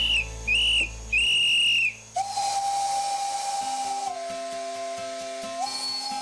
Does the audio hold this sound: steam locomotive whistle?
yes